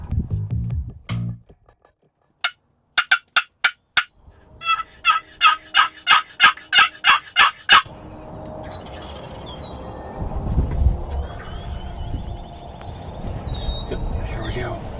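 A burst of rapid wild turkey gobbles in a quick rhythmic series, followed by quieter outdoor ambience with faint distant bird chirps, during turkey hunting in Missouri.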